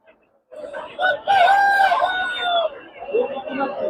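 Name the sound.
aseel chicken crowing at Ghazipur poultry market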